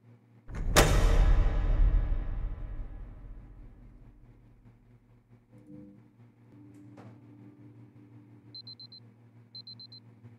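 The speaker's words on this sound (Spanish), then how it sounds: "¡El despertador!" Alarm clock in the video game Superliminal rings out suddenly and loudly, then decays into a quieter hum with small electronic beeps near the end; no talk.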